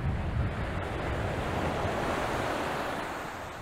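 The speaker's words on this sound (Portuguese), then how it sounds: "Estar aqui por cima destas pedras alcalinas a ouvir o som das ondas é totalmente prazeroso." Ocean waves break on alkaline rocks along the Angolan coast, a loud, continuous roar of surf with heavy wind rumble that eases slightly toward the end.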